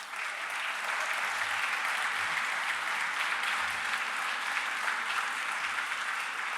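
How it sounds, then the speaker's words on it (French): An audience at an international conference on cities breaks into sustained applause, a broad even wash of many hands clapping at moderate distance, alone. "on peut l'applaudir."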